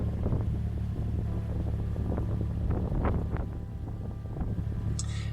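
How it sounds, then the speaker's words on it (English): Wind buffets a canal boat as it maneuvers near a lift bridge, a steady broadband rumble with gusty low roar throughout, close to the microphone, with faint knocks and creaks of the boat. "the wind is blowing on the boat"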